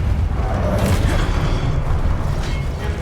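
Confringo fire-spell explosion in Hogwarts Legacy: a loud, sustained booming roar with crackling, rumbling texture that stays steady throughout, with no voices.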